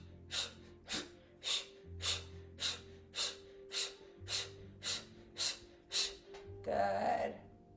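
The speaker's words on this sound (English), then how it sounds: "Exhale, Kalabati breathing." Kapalabhati yoga breathing during a gentle yoga flow: a steady series of about eleven sharp, forceful exhales through the nose at an even rhythm, close and clear, ending in a longer breath over a faint low hum.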